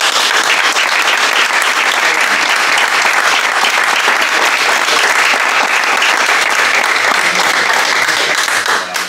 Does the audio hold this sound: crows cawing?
no